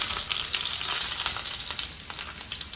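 Onions sizzle steadily in hot oil for a dish of canned corned beef, a close, even frying hiss with no voices.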